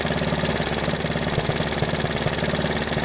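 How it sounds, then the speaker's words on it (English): Three-wheeler engine idling after a timing advance, a steady low chugging pulse with a faint knocking tick, close and continuous for the whole stretch with no talk. "I think my idle might be set a little low. There it went. It definitely likes being advanced more."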